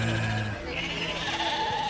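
Sheep on a farm in the Suðurnes region of Iceland bleat softly over about two seconds, with drawn-out, wavering calls layered against a steady farmyard background.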